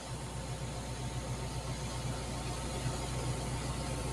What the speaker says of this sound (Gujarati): બીજું ટ્રેક્ટર આવે છે